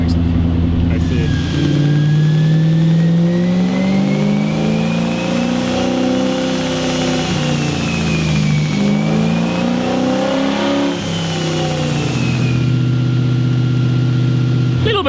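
A 1UZ V8 swapped mini-truck revs on a dyno, the engine note climbing and falling in long sweeping pulls, loud and close and continuous, with people talking faintly under it.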